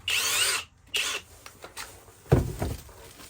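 A Flex 24V cordless drill with a keyless chuck whirs in short bursts, two quick high-pitched spins followed by softer handling clicks and a low thump, close up with no talking.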